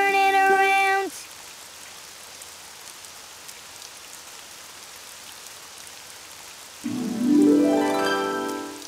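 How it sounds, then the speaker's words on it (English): Rain falls outside in a Daniel Tiger cartoon, a steady soft hiss filling the middle of the clip between short bright musical tones at the start and end. "Oh, it's raining outside."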